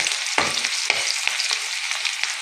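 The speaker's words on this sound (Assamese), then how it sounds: "এইখিনি এতিয়া অলপ সময় এনেকৈ লৰাই থাকিম, ৰঙচুৱা হোৱালৈকে।" Chopped onion frying in a pan for a zika curry, a steady hiss of sizzling oil broken by a few soft scraping stirs, close and fairly loud with no speech.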